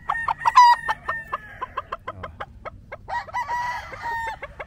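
A gamecock, a Gary Gilliam roundhead cross stag with a straight comb, crows near and loud, with sharp repeated clucks and a second crow following, set against faint background noise.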